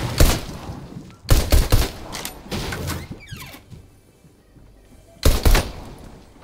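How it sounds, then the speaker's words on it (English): Sharp bursts of gunfire in Fortnite while shooting open chests, three quick clusters of cracking shots separated by quieter gaps, close and punchy. "I'm just shooting open chests and stuff."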